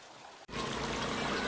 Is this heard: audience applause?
no